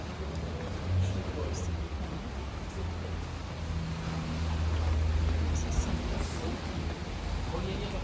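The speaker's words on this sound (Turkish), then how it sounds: "Çok güzel yağmurda yağıyor." Steady rain patters down on an outdoor market in a dense, even hiss, with a low rumble of ambient noise underneath and no clear voices.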